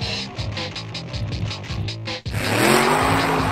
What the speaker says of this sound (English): what is it about the red-blooded American male that we like V8 noise so much?